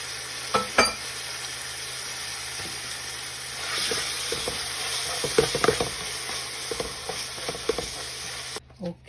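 Chicken and salami sizzling in a pan with onion for pansit: a steady bright hiss of frying throughout, with occasional clinks and stirring scrapes, and a voice speaking briefly over it.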